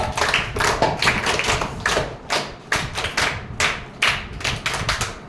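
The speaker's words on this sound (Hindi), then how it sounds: "शाबाश भाई, इसके लिए तालियां बजाओ" Schoolchildren in a classroom clap together in a quick, steady rhythm of sharp, close claps that repeat in bursts over several seconds, with brief gaps between them.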